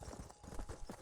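Horse hooves clip-clop in a steady rhythmic gallop while riding in the game Red Dead Redemption, moderately close with a low thudding quality and a faint ambient bed.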